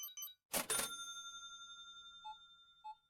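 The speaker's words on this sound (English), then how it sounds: "I'm buying a cash register now." A cash register purchase chime rings out in a video game, a loud clattering ka-ching followed by a sustained metallic ring and two soft beeps as it fades.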